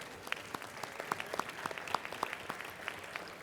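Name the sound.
audience applause for panel speakers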